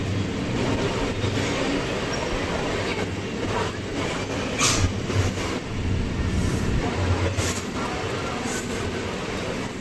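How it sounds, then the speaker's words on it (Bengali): A Sealdah–Diamond Harbour galloping local train pulls into Jadavpur station, its steady rolling rumble continuous throughout with brief higher metallic squeals and clatter rising now and then, fairly close and without speech. "এখন আমাদের ট্রেন এসে প্রবেশ করছে যাদবপুর স্টেশনে।"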